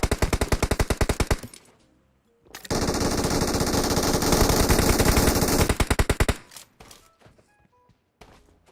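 Automatic gunfire in the PUBG Mobile battle royale game rattles in rapid bursts, with a sustained dense volley in the middle and a short burst at the end, loud and close.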